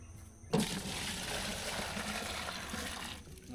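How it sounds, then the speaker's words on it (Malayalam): Liquid fertilizer pours onto a banana plant in one continuous, steady close splash that starts abruptly and runs for about three seconds before cutting off. "ഇനി ഒഴിക്കുന്ന സ്റ്റൈൽ കൂടി കാണിച്ചു തരാം."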